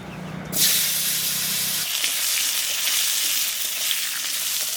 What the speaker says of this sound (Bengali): এই লম্বা লম্বা করে কাটা আলু দিয়ে দিচ্ছি